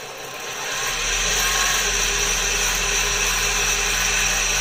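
Motor of a homemade mechanical charger spinning up, a hum that swells over the first second and then holds as a steady, fairly loud whir with a strong low drone.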